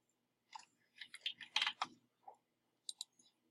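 A computer mouse gives a few crisp, quiet clicks, some in quick pairs, among faint desk handling noises in an otherwise silent room.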